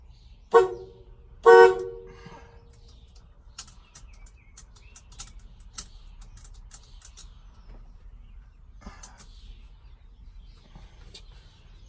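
A 1979 square body truck horn gives two short, loud honks close by, the second slightly longer, then quiet shop ambience follows with faint clicks and light tapping.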